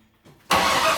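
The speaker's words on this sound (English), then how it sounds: "Let me hit the starter." A 1980 GMC C35 truck engine, revived after sitting 15 years, cranks on the starter; a faint click is followed by a loud, sustained grinding churn that begins abruptly halfway through.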